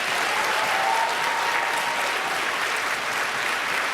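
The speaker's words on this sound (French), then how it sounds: "on les applaudit!" A live studio audience on a Quebec reality TV show warmly applauds the week's guests, with continuous, even clapping at moderate volume and no speech over it.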